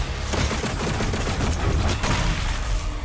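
Rapid bursts of gunfire from a gun in the video game Doom Eternal, a dense, steady stream of shots at constant loudness for three seconds, with no talking.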